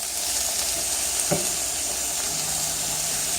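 A sweet potato and apple hash fries in a pan with a steady, close hiss and a single brief stirring clatter partway through. Nobody speaks over it.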